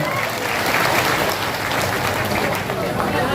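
A crowd at a political rally in Purnia, Bihar, addressed by a Union minister, claps steadily and densely, forming a loud, unbroken wash of applause for the full length.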